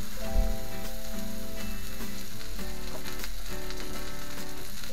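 A thick burger sizzles on the hot part of a steel plancha, a loud, steady, dense frying hiss that runs unbroken from start to finish.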